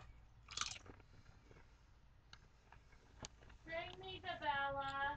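Crunchy bites into Mister Bee honey BBQ potato chips, a few sharp close crackles followed by faint chewing, then a person's voice comes in near the end.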